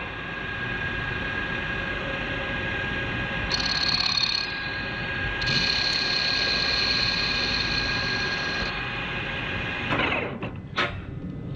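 A lathe spinning at 1,000 RPM takes hand-fed facing cuts on a metal step bar, giving a steady motor hum with a thin high whine that rises and drops as the tool engages, then a few sharp clicks near the end.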